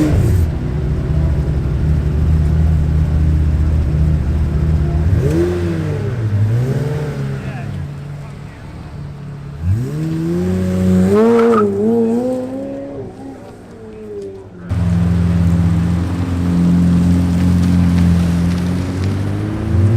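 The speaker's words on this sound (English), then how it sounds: "So the Cinque Roadster just got on the track." A Pagani Zonda Cinque Roadster driving on a track, its engine droning loudly, then swelling in two rising revs, easing off and returning to a strong steady roar.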